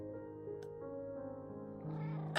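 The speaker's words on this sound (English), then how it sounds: "finally we get to hear all the meowing" A cat named Oreo yowls in a long drawn-out meow, wavering in pitch and rising toward the end, fairly faint with no talking.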